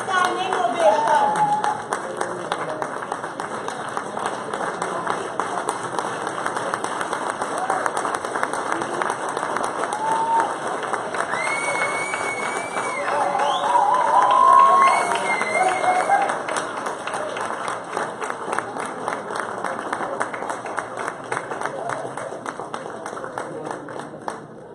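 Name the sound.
audience applause and standing ovation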